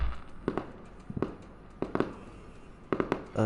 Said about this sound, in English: 2023, fireworks are going off.